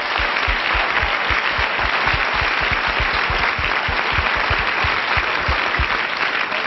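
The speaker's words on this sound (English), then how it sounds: "let's everybody else applaud the people who have run for office." A large audience applauds steadily and loudly for several seconds, a dense wash of many hands clapping at once with no talk over it, saluting people in the room who have run for political office.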